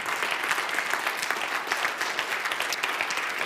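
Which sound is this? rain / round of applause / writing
round of applause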